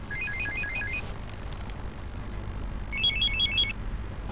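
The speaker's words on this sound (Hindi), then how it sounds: "सुबह सुबह किसका फोन आ गया?" A phone rings in two short trilling bursts separated by a pause, fairly faint over a quiet room background.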